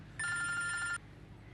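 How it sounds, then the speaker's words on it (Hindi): Telephone ringing indoors: a single bright electronic ring lasts under a second, clear and near, over quiet room background. "मैं फोन उठा के देखूं, हो सकता है किसी ने जरूरी बात करनी हो।"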